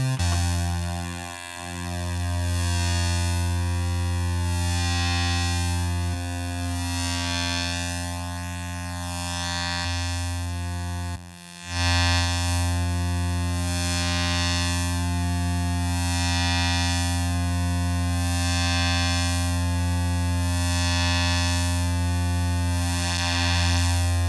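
Arturia UNO Synth synthesizer holding a sustained, buzzy droning tone with a slow, sweeping phasing shimmer, broken by one brief dropout near the middle, playing alone.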